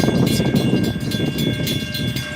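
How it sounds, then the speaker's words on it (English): A freight train slowing on the line, heard as a steady rumbling roll of railcars with a constant high whine, fairly loud and close without any voices. "The train seems to be slowing down."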